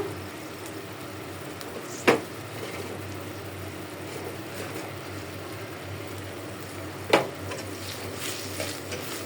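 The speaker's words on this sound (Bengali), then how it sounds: "আমি এখন পুঁইশাকটা বসিয়ে দিচ্ছি" Malabar spinach with chili powder, turmeric and garlic paste cooking in a pan, giving a low steady sizzle with a couple of sharp utensil clacks against the pan and no talking.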